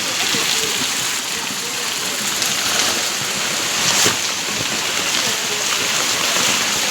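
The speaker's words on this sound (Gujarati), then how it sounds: "ખાસી વારનો વરસાદ ચાલુ હોય" Heavy, steady rain pours down in a broad, unbroken hiss that fills the scene from start to finish, with a voice talking faintly beneath the downpour.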